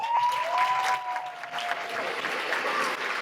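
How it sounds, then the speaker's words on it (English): An audience applauds steadily for a few seconds, dense clapping from many hands with a faint whistle-like tone running through it. "can we just give a round of applause for our coordinators?"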